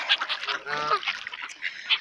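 Seagulls squawk and call while being fed by hand in England, a run of close, harsh honking cries in quick succession with no talking.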